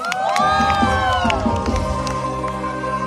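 A crowd at a mor lam concert in a Prachinburi temple fair cheers and claps, with shouts and whoops rising over sustained music tones, loud and lively before settling.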